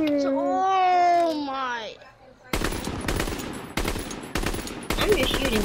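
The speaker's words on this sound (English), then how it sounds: "I'm just shooting at it." Gunfire in the video game Call of Duty: WWII, loud rapid bursts of automatic fire starting abruptly partway through and repeating in several strings, preceded by a voice.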